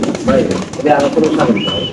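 Exhibition pigeons coo in soft, throaty bursts close by, several calls overlapping within a couple of seconds while people talk in the background.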